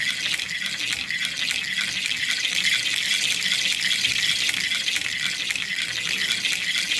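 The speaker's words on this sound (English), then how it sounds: "Let's proceed to give it a little kick to start the ball going." A ball rolls steadily along a toy particle accelerator track fitted with solenoids, making a continuous bright rattling whir that holds at an even, fairly loud level throughout, with no voices.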